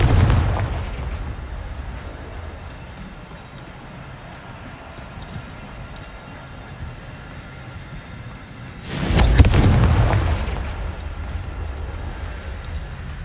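Sudden booming blast of the Confringo fire spell in Hogwarts Legacy, erupting loud over a low rumbling game ambience and fading over a second or two, with no talking.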